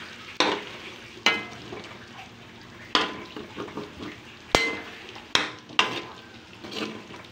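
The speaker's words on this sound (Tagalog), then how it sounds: "Hinintay lang natin na magmantika yung pork" Pork sizzling in its own rendered fat for adobo, with a steady frying crackle and several sharp utensil scrapes and clanks against the pan at irregular intervals.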